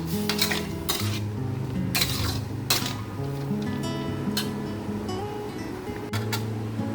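Pasta being stirred in a pan for a cream pasta dish, with repeated metallic scrapes and clinks of a utensil against the pan over a steady low kitchen hum, close and fairly loud with no talking.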